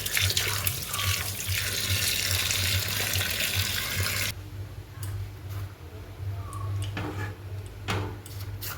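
Potatoes rinsed under a running kitchen tap: a steady, fairly loud gush of water for about four seconds, then it cuts off, leaving a low hum and a few scattered knocks and clicks.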